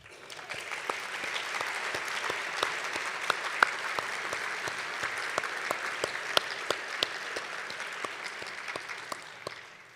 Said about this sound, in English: Please stand when I call your name and hold your applause until the end.